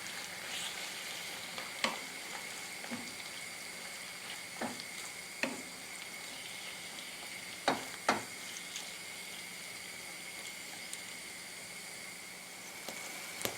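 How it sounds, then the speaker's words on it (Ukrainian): Steady, quiet sizzling of wood blewit mushrooms frying in butter in a pan, with occasional soft pops and scrapes. "Викладаємо гриби та рівномірно розподіляємо їх на пательні."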